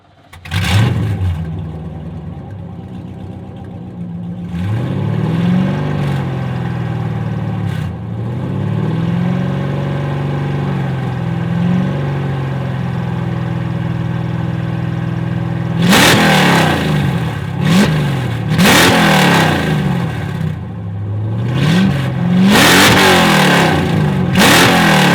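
Straight-piped Lamborghini engine revving very loudly and close by, with repeated rising and falling revs, a steadier stretch near idle, then a burst of sharp revs toward the end, and no talking.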